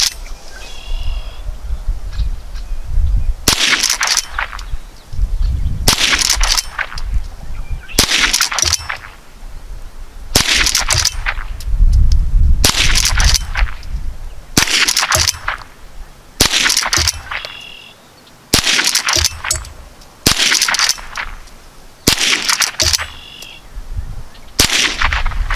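A Henry Small Game Carbine H001TLP fired repeatedly, about ten sharp close shots spaced a couple of seconds apart, each followed by a ringing metallic ping of a steel target.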